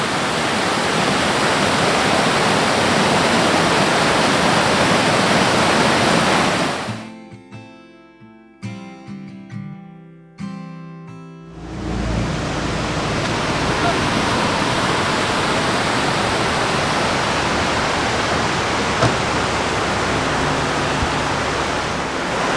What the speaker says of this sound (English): So if you like water and waterfalls and stuff,